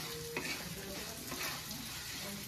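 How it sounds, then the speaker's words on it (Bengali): Mung dal dry-roasting in a pan, a close, continuous soft sizzle and rustle with light stirring throughout, no voices. "এবার মুগ ডাল ভেজে নেওয়া হবে"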